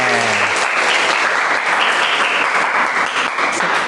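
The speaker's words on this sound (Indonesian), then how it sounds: "Kasih tepuk tangan." Students in a mathematics classroom give a loud burst of applause, dense continuous clapping close by that holds steady for several seconds with no talking.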